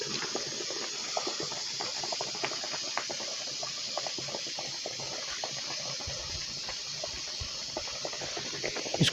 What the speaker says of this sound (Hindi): इसको हमने 5 मिनट उबाल दिया पानी में।